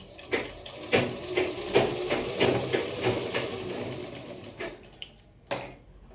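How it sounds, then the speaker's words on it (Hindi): A sewing machine stitches pajama pieces at the margin in short uneven runs, with sharp clicks and thumps between the bursts as the fabric is guided and the run slows to a stop. "इसको थोड़ा सा साथ में लग के यूँ सिलाई लगाएंगे।"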